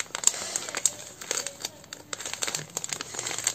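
Small plastic sachets holding little buttons are handled up close, giving continuous soft crinkling and rustling with light ticks and taps, fairly quiet and without talk.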